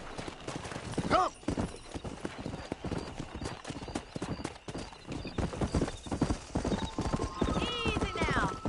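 Galloping horse hooves from the Red Dead Redemption video game, a rapid, steady clip-clop running throughout, with a loud neigh near the start and a whinny toward the end, mixed with other game sounds.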